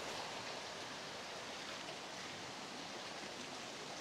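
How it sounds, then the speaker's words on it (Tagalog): Soft, steady rushing of falling water, faint and continuous like a small cascade nearby, with no voices, at Kaymasi Falls in Indang, Cavite. "Meron din ditong falls na ang ganda. Ang patak na ay parang ambon-ambon lang."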